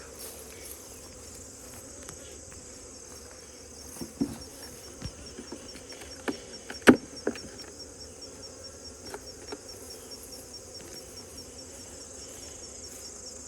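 Honey bees buzzing around a hive frame during winter preparation, a steady low hum with scattered faint clicks and taps from handling the frame.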